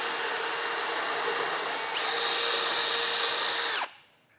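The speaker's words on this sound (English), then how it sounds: "take that same 1/2-inch drill bit and drill a hole right here in the bottom in this brace" A power drill with a 1/2-inch bit bores a hole through a steel brace of a Roadmaster base plate on a 2017 GMC Sierra 1500. The whine is steady and loud, rises in pitch partway through, then stops abruptly.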